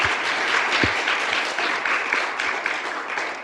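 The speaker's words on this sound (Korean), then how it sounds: "네 분의 패널 분들께 다시 한번 따뜻한 박수 부탁드립니다" An audience at a youth session of the 2022 Jeju Forum applauds the four panelists, giving a steady, dense patter of clapping from many hands that holds evenly throughout.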